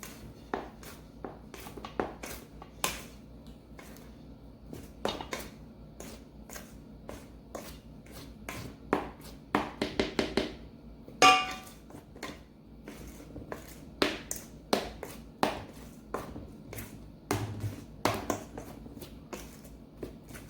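Soft, irregular scraping and tapping of a scoop folding purple ube mamon batter in a bowl, with intermittent clicks and light clatter at close range and no talking.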